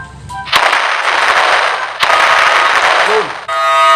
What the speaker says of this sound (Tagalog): Ito, pasabugin natin to.